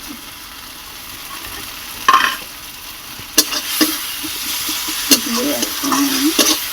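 Turmeric and chili powder frying in hot oil for a rohu fish curry with potato and eggplant, a steady close sizzle with occasional stirring scrapes and a brief word spoken over it.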